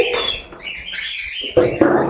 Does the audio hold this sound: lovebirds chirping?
yes